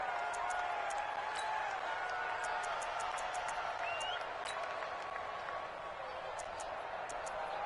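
A football video game crowd roars steadily and broadly as a big third down approaches, a constant dense wash of cheering and applause at moderate level throughout, with faint voice-like tones drifting through it.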